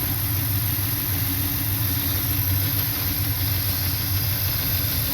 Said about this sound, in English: It's looking like I got either some lifter tick